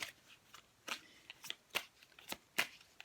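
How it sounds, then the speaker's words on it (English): Cosmic Tarot cards shuffled by hand close up, a series of about eight short crisp riffling bursts in uneven rhythm, alone with no talk. "Let's give those cards a good shuffle."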